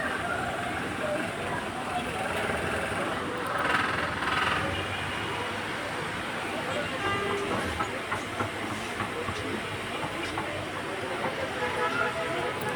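An Alexandria Raml tram stands at Wizara station on Abu Qir Street, giving a steady rumble of rail and street noise with faint clatter throughout.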